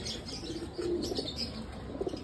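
Budha-breed pigeons with red ceres coo softly and steadily against a constant hiss of background noise, the low warbling calls recurring throughout.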